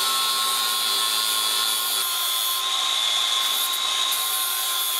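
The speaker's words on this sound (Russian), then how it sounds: "сверло нам нужно наточить" A grinder whines steadily at high pitch as a drill bit is sharpened against it, the tone holding unbroken throughout.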